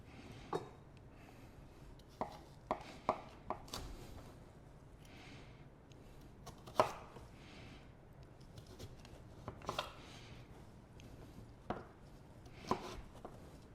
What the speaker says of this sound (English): nice rough chop.